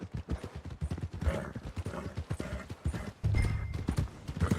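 Hooves clip-clop in a quick, steady rhythm as a horse moves along in Red Dead Redemption 2, close and fairly loud, with a heavier thud near the end and no talk.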